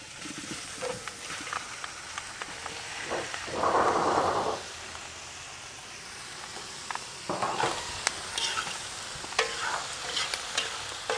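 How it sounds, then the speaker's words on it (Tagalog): Fatty pork drops into a hot wok with a loud burst of sizzling, then settles into a steady crackle with scattered pops and scraping stirs. "Kailangan na natin ihulog dito sa pinainit kong kawali, tol."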